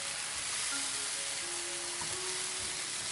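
Fried chicken sizzling in a pan as it is stirred through a spice paste, a constant broad hiss with faint stirring scrapes, close and steady, no voices.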